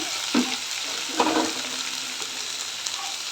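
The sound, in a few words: bottle gourd and vegetables frying in a pan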